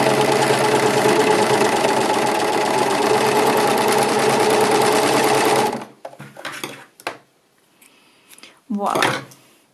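A sewing machine runs fast and steady, seaming the short ends of a knit jersey neckband, then stops abruptly; a few soft handling bumps and rustles follow in the quiet.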